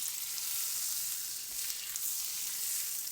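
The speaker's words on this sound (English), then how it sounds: "We're going to melt that butter quickly." Butter melting in a hot pan on the stove for a puff omelette, giving a steady, bright hiss and sizzle with a few soft crackles. It is moderately loud and goes on without a break.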